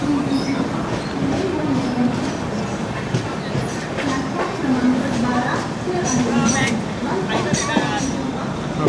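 The 16332 Express rolls into a busy Dadar station platform in Mumbai, with steady wheel rumble and clattering carriage noise, squeals and rattles, under a voice talking.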